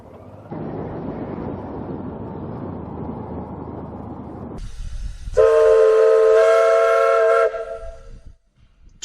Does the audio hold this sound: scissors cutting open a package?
no